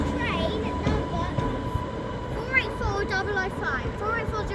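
An Island Line train at Ryde on the Isle of Wight, rumbling and clattering over the rails with squealing wheel noise, as people talk nearby.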